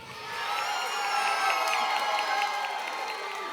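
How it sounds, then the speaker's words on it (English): Fight-night crowd cheering and applauding for fighter Austin Fowler, a swelling wash of claps, whoops and shouts that holds steady and fairly loud. "By a round of applause, who feels like Austin Fowler took the fight?"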